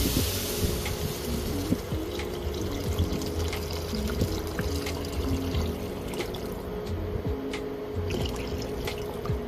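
Water poured into a cooking pot for Filipino chicken sopas, a steady continuous pouring and trickling wash running for about nine seconds with a few small clinks, fairly close and moderately loud, with no talking.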